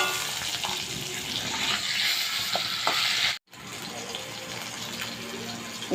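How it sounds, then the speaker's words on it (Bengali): Steady loud sizzling of a fish head frying in oil, with a few clinks, broken by a brief silent cut before the crackle continues. "লাল লাল করে একটু ভেজে নেব"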